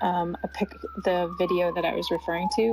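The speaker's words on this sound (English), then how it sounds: "I'm sorry about the siren in the background if you can hear it." A siren wails in the background, a rising tone sliding slowly downward under continuous close talk from a speaker on a live audio call.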